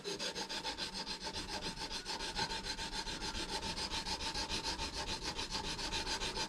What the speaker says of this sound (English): back to more sanding.